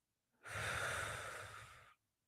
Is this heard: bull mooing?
no